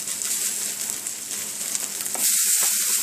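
Sweet potato sizzles and fries in a hot pan as it caramelizes, a steady close crackle that turns brighter and hissier near the end, with no voices over it.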